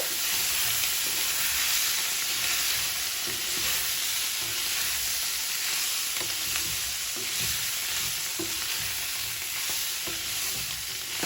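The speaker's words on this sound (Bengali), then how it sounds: "এই জন্য আমি হালকা এরকম একটু ভাজা ভাজা করে নিলাম" Mixed vegetables cooked with chicken fry in a pan with a constant bright, hissing sizzle. Occasional soft spatula taps and scrapes come through up close, with no talking.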